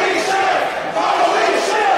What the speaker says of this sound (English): Hear a holy shit chant from the crowd